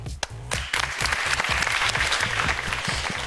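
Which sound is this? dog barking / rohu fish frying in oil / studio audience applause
studio audience applause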